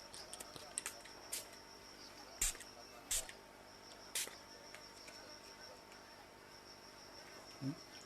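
Flying insects buzz faintly around a quiet spot, with a few brief louder passes and hums flickering over a steady low background.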